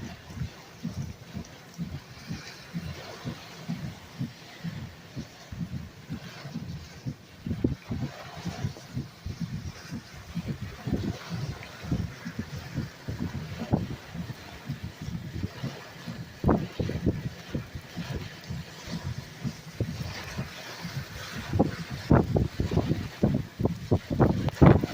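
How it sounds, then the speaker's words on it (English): Strong west-northwest wind during a storm with straight-line gusts, a rough continuous roar with irregular buffeting thumps against the microphone that grow heavier toward the end. "Lots of real strong wind out of the west-northwest."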